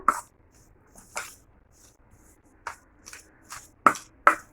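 Mashed potato paratha filling mixed by hand with crushed ajwain, giving soft, wet squelching and squishing sounds in a few separate bursts. The squishes land at irregular intervals, close and fairly clear, with quiet gaps between them and no talking.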